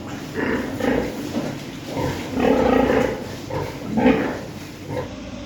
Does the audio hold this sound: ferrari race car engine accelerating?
no